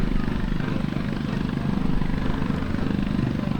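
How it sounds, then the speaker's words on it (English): Low, throbbing rumble of a 14-cylinder radial engine on a C-47 Skytrain slowing down, with audible pulsing of cylinders firing, steady and fairly loud, no voices. "There you can hear each of those radial engines firing as the airplane is now slowing down"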